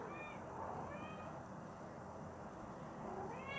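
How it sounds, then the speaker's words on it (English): A cat meows a few times, faint and in the background, with quiet room noise between the calls. "if you hear a little meowing in the background, that's just one of my little cats"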